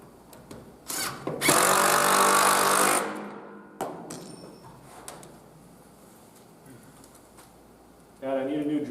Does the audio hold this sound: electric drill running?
yes